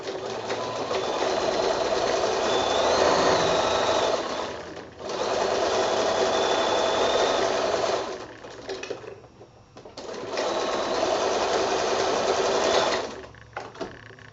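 A sewing machine stitches a flange onto a giraffe wall-hanging quilt in three long steady bursts of rapid whirring, separated by short pauses.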